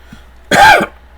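A teacher recording a maths lesson on adding fractions gives one short, harsh cough that rasps into throat clearing, close and loud against a quiet room.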